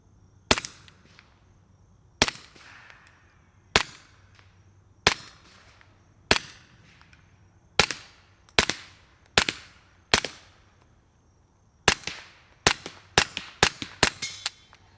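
Suppressed shots from a Walther P22 pistol fitted with a Hansohn F4 eight-baffle suppressor, about fifteen sharp, clipped cracks that come singly and spaced at first, then in a quicker cluster toward the end, with no talking.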